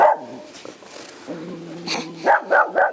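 A dog barks close by: a few whimpers and whines first, then three sharp, loud barks in quick succession near the end, with no talking.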